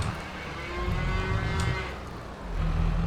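Cattle low in long, deep moos over a windy outdoor rumble, one after another, fairly close.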